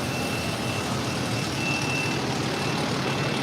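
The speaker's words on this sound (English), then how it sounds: "We got the propane truck here. Kind of weird they're delivering propane right now." A propane delivery truck idling nearby with a steady engine rumble, its reversing beeper repeating faintly over the continuous noise.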